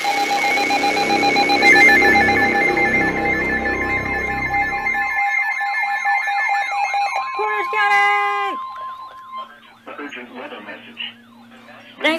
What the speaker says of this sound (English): Thanks for the notification, Ironbot